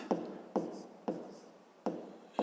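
A pen scratches out a subtraction problem on paper for a fifth-grade math exercise, with short strokes in four evenly spaced bursts, close and clear with no talking.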